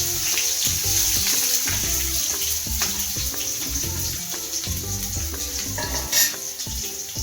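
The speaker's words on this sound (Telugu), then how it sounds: "ఇప్పుడు మనం ఇందాక ఆల్రెడీ చాప్ చేసి పెట్టుకున్న ఉల్లిపాయలు పచ్చిమిర్చి కూడా వేసేద్దాం." Chopped onions and green chillies hit hot oil in a pan, a loud, dense sizzle and crackle with rhythmic scraping and stirring clatter running throughout, close by.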